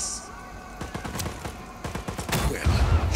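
Video game Just Cause 4 combat: rapid bursts of gunfire and sharp blasts crackle close by in uneven clusters, building into a heavier, louder booming rumble at the end.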